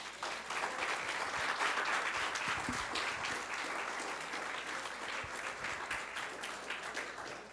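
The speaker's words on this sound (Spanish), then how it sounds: "Dele un aplauso a Cristo." A church congregation applauds during a sermon, steady, dense clapping from many hands held evenly for several seconds, heard from some distance and fairly quiet.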